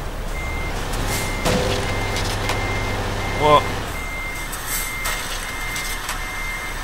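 A truck in the Euro Truck Simulator 2 game beeps steadily as it reverses, under a low engine drone, with a man briefly exclaiming and a thud partway through.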